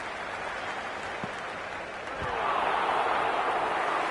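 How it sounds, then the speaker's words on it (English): Stadium crowd at a cricket match in the Cricket 26 video game, a broad steady roar of applause and cheering that swells louder midway and holds, with a commentator's voice. "It's evident and ever so audible that the crowd is at near bursting point at today's play."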